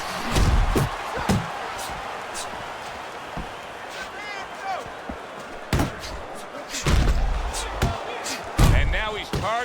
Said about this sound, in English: Little head knocking with that right hand.